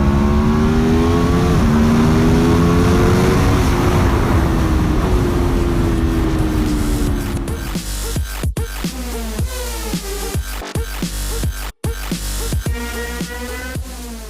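A 2017 Aprilia RSV4 RF 1000 motorcycle engine revs hard and loud at close range, rising and falling in pitch, then drops into sharp throttle blips and crackling bursts.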